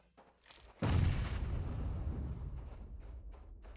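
A grenade blast in PUBG Mobile erupts suddenly after a brief soft lead-in, a loud, close boom that rumbles and decays slowly over a few seconds, with no talk over it.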